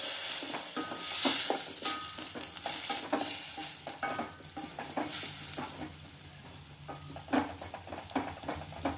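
Drumstick chili curry (munakkaya pulusu) with chili powder, coriander powder and salt cooking on a low flame, giving a continuous gentle sizzle with frequent clinks and scrapes of a spoon stirring in the pot.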